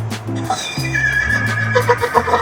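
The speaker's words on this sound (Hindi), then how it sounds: "आवाज से पता चला एक घोड़ा है।" A horse neighs loudly and close, a long wavering whinny that rises and falls, followed by faint clip-clopping hooves near the end.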